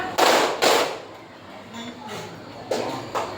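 Ninth-grade pupils in a maths class clap in unison on cue: two sharp group claps, a pause filled with soft voices, then two more claps, loud and close.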